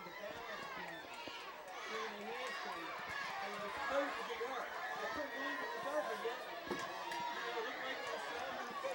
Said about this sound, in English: the crowd is as loud as it's been all night, and that's because the cheerleaders are throwing out souvenir footballs